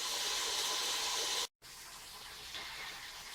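Red peppers washed under a running kitchen tap of lukewarm or cold water, a loud, steady hiss of flowing water, cut off briefly midway before resuming.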